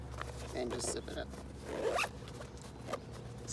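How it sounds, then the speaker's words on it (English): Zipper on the Helinox Chair One carry bag pulled shut in a few quick rasping strokes, close and fairly quiet, over a low background hum. "And just zip it up."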